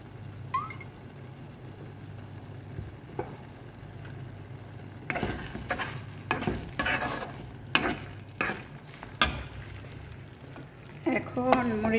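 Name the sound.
olive oil heating and sizzling in a pan while stirring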